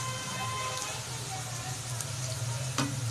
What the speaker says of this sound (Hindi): अब इसमें डालेंगे लहसुन अदरक का पेस्ट।